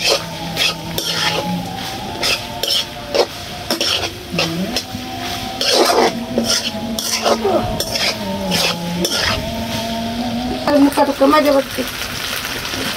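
Macaroni stirred in a pot over a clay stove: repeated scraping and clinking of a utensil against the pot in uneven bursts, close and fairly loud, with a voice heard at times.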